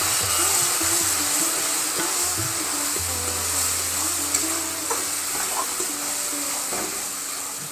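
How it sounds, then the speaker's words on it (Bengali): Onion, ginger and garlic paste fries in a pan with a continuous hissing sizzle while a utensil stirs and scrapes through it, with occasional soft clinks over about eight seconds. "সেটা দিয়ে দেবো। দিয়ে ভালো করে নাড়তে থাকবো।"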